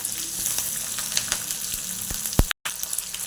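Chili and plenty of garlic frying in a pan for a garlic-fenugreek vegetable dish, a steady close sizzle with occasional stirring taps and one brief dropout, no talking.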